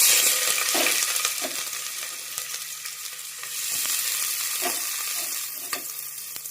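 Onions and green chilies fry in ghee with cinnamon, cloves and cardamom, giving a steady crackling sizzle with occasional stirring scrapes, moderately close and continuous.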